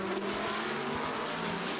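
A Toyota-powered Lola coupe prototype with a 4.5-litre V8 runs at full race pace on track during the WEC Six Hours of the Circuit of the Americas, its steady, loud engine drone sustained throughout.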